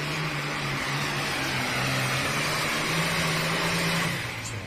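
An International 3688 tractor, painted black, roaring under load during a county fair tractor pull, a loud sustained engine drone with a steady low tone, heard at a distance over outdoor ambience.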